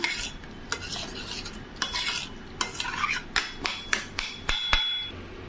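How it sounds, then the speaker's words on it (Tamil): Cooked moong dal mashed in a vessel with a utensil: repeated close knocks and scraping strokes in an uneven rhythm, sharp taps against metal between softer squishy passes, with no voices. "பருப்பு இப்படி நம்ம மசிச்சு வச்சுக்கலாம்."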